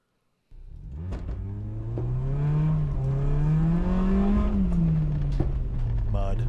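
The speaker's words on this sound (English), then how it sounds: "It's just going to sound like car noises for the next minute or so" A rallycross car's engine drones steadily and loud on a muddy dirt track, pitch rising and falling as it works through gears, with wheel and chassis rumble throughout and no talk.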